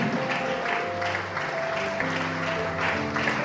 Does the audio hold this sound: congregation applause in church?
yes